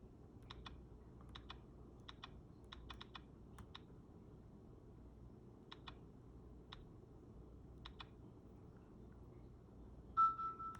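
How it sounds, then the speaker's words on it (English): Buttons clicked on a Nintendo DS Lite, a series of sharp, close, quiet clicks in small bursts spread over several seconds, ending with a brief electronic beep. "Just clicking the wrong button."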